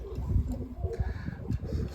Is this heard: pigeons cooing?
yes